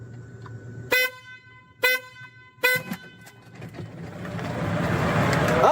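A car horn sounds three times at roughly one-second intervals, short loud blasts, followed by a rising rush of engine and road noise as the vehicles take off.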